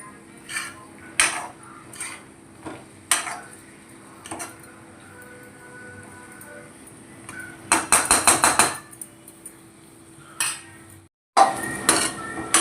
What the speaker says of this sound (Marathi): त्याला हलवून घेते व्यवस्थित आणि परतून घेते